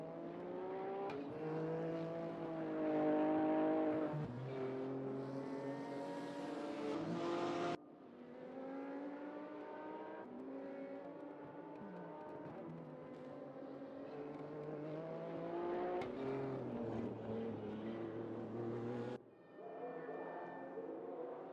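McLaren GT race cars lapping Imola in a racing game, a loud high-revving engine whine with rising and falling pitch as gears shift, continuous and close, with abrupt cuts between cars.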